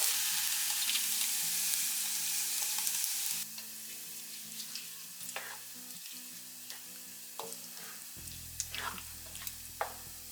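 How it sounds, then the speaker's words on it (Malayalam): Onions and curry leaves fry in a pan for tapioca in coconut milk, giving a steady close sizzle with occasional stirring clinks. The sizzle runs loud at first, then a little quieter, with no talk. "കറിവേപ്പിലയും കൂടി ഇടാം. ഇതൊന്ന് മൂപ്പിച്ചെടുക്കാം."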